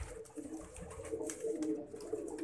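A domestic flying pigeon coos in a low, rumbling repeated pattern close by, the soft throaty calls rolling on steadily over faint background noise.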